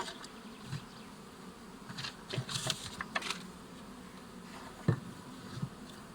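Honeybees hum steadily over an open hive with brood frames, a queen excluder grid and a caged queen. The close, continuous buzzing swells as individual bees fly past, with no talking.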